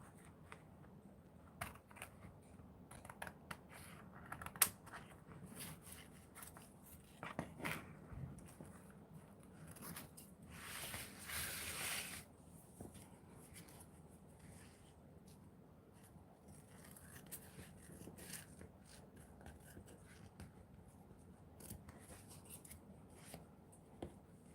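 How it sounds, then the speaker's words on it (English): Scissors trimming excess paper from an art journal page, a series of quiet crisp snips and paper rustles spread irregularly across the stretch, close and soft, with one brief louder crinkling burst midway. "I'm just trimming here again the excess."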